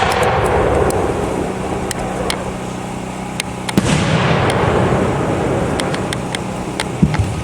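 A Lido 6-inch purple and dark green aerial firework shell at a pyrotechnics demo, with a deep thump at the burst followed by a wide rushing crackle and scattered sharp reports, heard outdoors at a distance with no talking.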